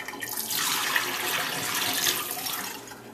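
Kitchen tap water runs into a sink while rice is being washed, a steady hissing stream that swells after a moment and holds fairly loud, with no talk over it.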